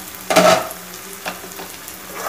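Tomatoes cooking in a pan for egg kuruma are stirred once, giving a loud sizzling scrape, followed by a softer ongoing fry with a few faint stirring sounds.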